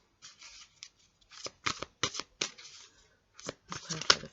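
Tarot cards being shuffled in short, crisp riffling bursts with pauses between them, fairly close, some bursts louder than others.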